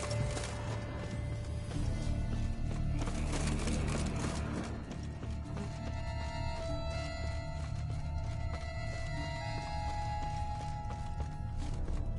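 Galloping hooves pound steadily with a horse whinnying, set against a dense, continuous bed of game music and ambience throughout, in the video game The Witcher 3: Blood and Wine.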